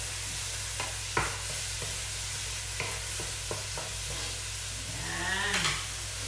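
Food sizzles steadily in a pan at moderate volume, with occasional clicks and scrapes of stirring over a constant low hum.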